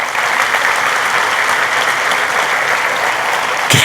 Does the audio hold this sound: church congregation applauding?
yes